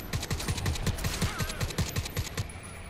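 Rapid automatic gunfire from the Crysis 3 video game, a steady burst of about a dozen evenly spaced punchy shots at close range, fairly quiet in level, with no speech over it.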